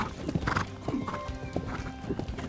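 Horse hooves clip-clop in an uneven trotting rhythm during a jumping riding lesson, close and moderately loud, with a brief whinny-like sound and faint talk in the background.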